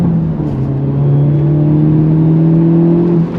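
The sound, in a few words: Hyundai Elantra N accelerating on throttle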